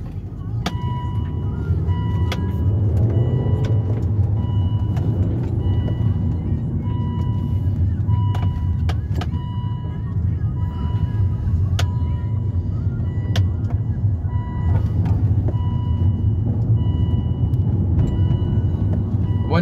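A Volvo S40 car cruises smoothly with a steady, even road rumble from inside the cabin, and a voice talks over it.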